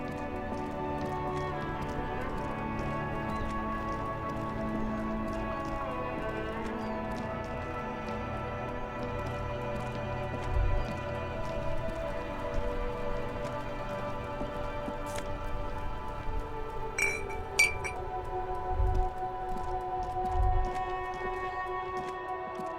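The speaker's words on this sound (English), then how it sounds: "This rain will not let up anytime soon." Rain falling in Disco Elysium, a steady patter of drops on surfaces under a sustained musical backdrop, with a few brief louder knocks; no voices.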